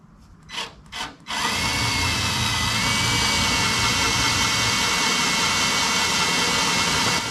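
Two short drill bursts into a 1972 Dodge Challenger fender, then a long, continuous, loud whine as the holes are drilled out in the metal.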